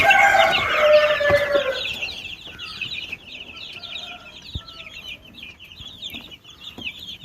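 Country chickens and a rooster on a farm: a loud crow opens nearby, followed by steady clucking and chattering from the flock, with scattered bird calls and small knocks in the background.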